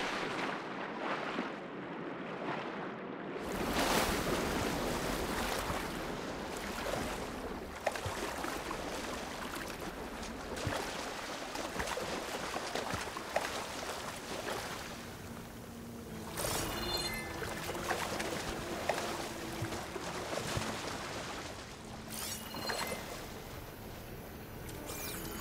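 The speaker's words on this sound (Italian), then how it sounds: "L'acqua scorre verso lo scarico della parete." Water rushes and gurgles toward a wall drain in Horizon Forbidden West, a steady churning flow that swells and shifts over a constant watery bed, moderately loud and continuous.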